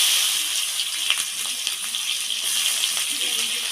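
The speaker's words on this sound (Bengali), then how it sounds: "দিয়ে একটু ভেজে নেবো ভালো করে। পেঁয়াজটা ভেজে নিয়েছি" Chopped onions with torn dried red chillies frying in oil in a pan for a fish curry, a steady bright sizzle with small crackles throughout.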